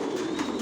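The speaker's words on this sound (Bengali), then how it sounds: "সব লংয়ের কবুতর পালি" Racing pigeons of the Johnson line coo in a loft, a single brief, soft throaty coo heard up close with no voices.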